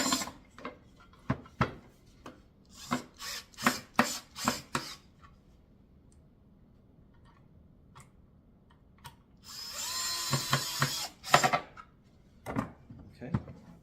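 A cordless drill fitted with a Phillips bit drives screws into a natural wood kids chair, heard as a few short whirring bursts near the end, mixed with handling knocks and tool clatter.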